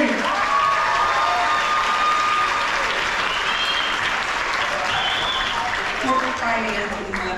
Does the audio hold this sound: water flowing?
no